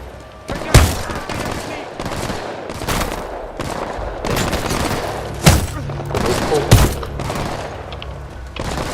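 Gunfire from weapons in Titanfall 2, a loud, dense stream of shots and bursts with several sharp, heavy bangs, up close and continuous over game noise.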